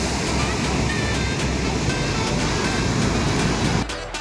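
Ocean waves washing onto a beach at low tide at a resort shoreline, a continuous loud hiss of surf that cuts off abruptly near the end, heard close and without talk.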